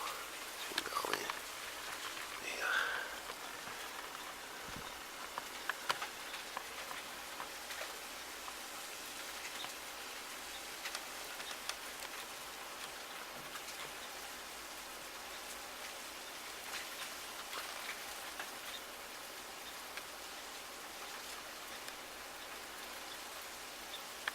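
Ice pellets and sleet falling steadily during a winter storm, a faint, continuous patter of precipitation on the ground with occasional small ticks, spread evenly throughout.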